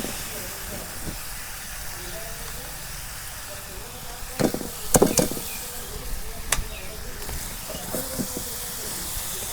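Taro leaves go into hot oil with fried spices in a village kitchen. A soft, steady sizzle breaks into louder crackling and clattering bursts midway, and a voice speaks.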